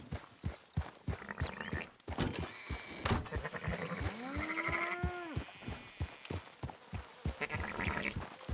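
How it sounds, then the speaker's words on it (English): Sheep bleat near a farmhouse in the video game Red Dead Redemption 2, with one clear drawn-out bleat and a few shorter ones. Steady footsteps clop underneath, and the sounds are moderately close. "We've got sheep going."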